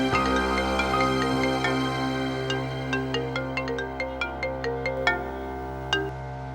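A mobile phone ringtone plays a repeating melodic tune, clear and steady, ringing on alone for several seconds over a soft background hum.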